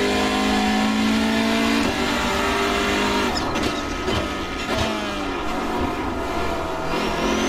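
Hyundai Veloster N TCR touring race car in the iRacing simulator, its engine revving hard and climbing through gears with sharp shifts, loud and continuous with no talk.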